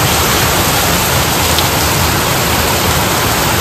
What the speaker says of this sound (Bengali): সঙ্গে সঙ্গে ঝলঝলিয়ে বৃষ্টি